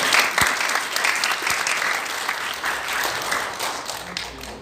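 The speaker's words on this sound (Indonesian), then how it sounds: "Tepuk tangan sekali lagi buat saya." Congregation at a church service claps in sustained applause, a dense steady patter of many hands filling the room with a couple of low thumps early on.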